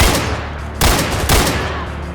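Two loud, close revolver shots in the video game Ashes: Afterglow, each a sharp blast with a short ringing decay, spaced about half a second apart over a rumbling background.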